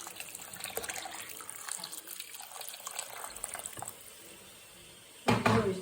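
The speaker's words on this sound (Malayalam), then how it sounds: "ആവശ്യത്തിന് വെള്ളം ഒഴിക്കണം" Water poured from a vessel into a pan of fish curry cooking with tomato and kudampuli, a soft steady trickle and splash under kitchen background noise, ending in a brief louder clatter.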